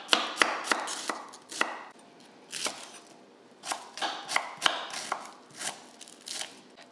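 Brussels sprouts sliced by hand with a knife on a cutting board, a run of crisp, close chopping taps in two uneven clusters separated by a short pause.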